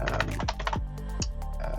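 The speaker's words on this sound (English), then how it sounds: "So I can start typing type of coverage" Quick, uneven keystrokes clatter on a computer keyboard, a close, dense run of clicks and taps with small pauses and no talking.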